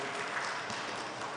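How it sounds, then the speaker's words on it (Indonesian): Crowd applause at a live book dissemination event honoring the author Abdul Madjid Sallatu, a steady wash of clapping filling the hall throughout. "Tepuk tangan dulu untuk Kak Majid ya"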